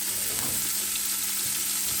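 Carrot, onion and celery with bay leaf sizzling in a hot pan as wine is added, a steady, fairly loud hiss with faint bubbling underneath, close by.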